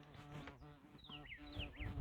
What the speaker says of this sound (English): It's just a bumblebee